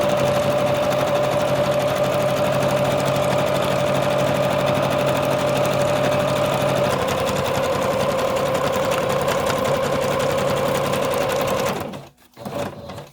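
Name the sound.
sewing machine stitching fabric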